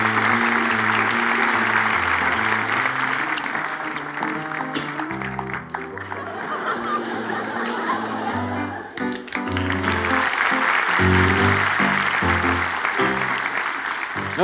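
Steady applause from a Turkish television show studio audience, loud and continuous, with rhythmic music playing underneath throughout.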